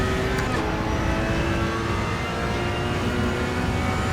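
A Ferrari 488 Challenge Evo in Assetto Corsa Evo, lapping the Nurburgring, holds a loud, sustained engine drone under hard throttle, its pitch climbing steadily with no talk over it.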